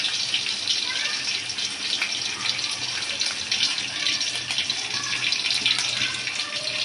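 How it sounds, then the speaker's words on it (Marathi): Mustard seeds and cumin sizzling and crackling in hot oil in a pan, a steady dense hiss with scattered pops throughout, close and fairly loud, with no talking. "त्याच्यामध्ये टाकत आहे आता राई आणि जिरं"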